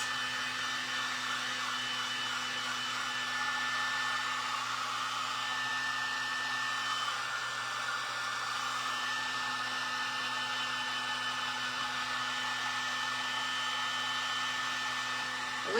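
A heat tool blowing very hot air runs continuously at close range, a steady, even whooshing drone with a faint motor hum and no break or talk.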